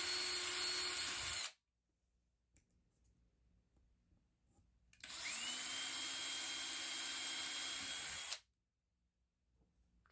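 Power drill fitted with a brad point bit boring holes into a cigar box through a pickup-hole jig: two loud sustained whirring bursts, a short one at the start and a longer one midway, with quiet pauses between and no talk.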